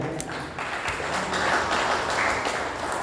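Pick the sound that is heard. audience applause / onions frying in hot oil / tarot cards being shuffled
audience applause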